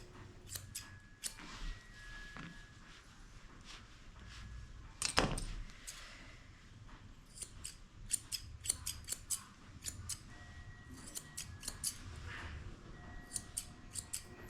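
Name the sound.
curved grooming scissors cutting dog hair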